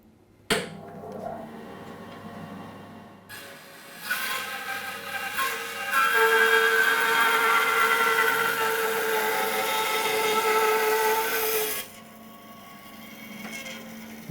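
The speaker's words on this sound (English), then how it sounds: "we're just going to cross cut a bit of 3-inch oak" A Record Power BS350S 14-inch band saw with a 1.5 horsepower motor cross cuts a 3-inch oak block, rising into a loud, steady, sustained whine for several seconds before dropping back to a quieter motor hum.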